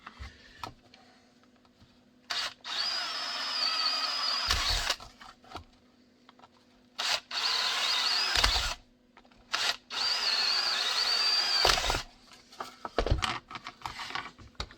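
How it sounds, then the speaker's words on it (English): A power drill drilling a Safariland holster for a Glock 19 runs in several bursts of a few seconds each, whining steadily with short pauses between, close and fairly loud. "we'll drill all these"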